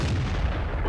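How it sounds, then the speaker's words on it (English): In the World of Tanks video game, a T-54 tank cannon fires a HEAT shell: one heavy, booming blast that fills the short moment, loud and close with no voices. "And now our heat shell should pen him."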